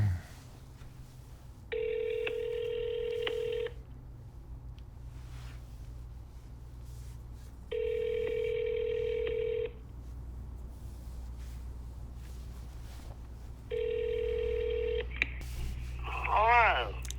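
A telephone line rings three times at an even, unhurried cadence, each ring a steady two-second tone clear over a low background hum, followed by a brief voice right at the end.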